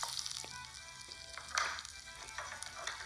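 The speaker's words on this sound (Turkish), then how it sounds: "Of, çok güzel kızardı soğan." Onions sizzle and crackle steadily in hot oil in a pan, a close, continuous frying hiss with small pops and occasional stirring.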